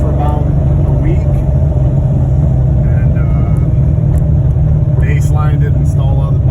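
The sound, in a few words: C6 Corvette with heads/cam LS3 engine cruising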